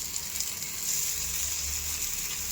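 Kuli paniyaram sizzling in a pan just after being flipped, a steady bright hiss of frying batter with faint crackles over a low background hum, close by.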